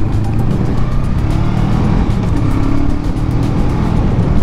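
A car drives along the road, with a steady, continuous rumble of engine and tire noise that stays close and even throughout, with no talking.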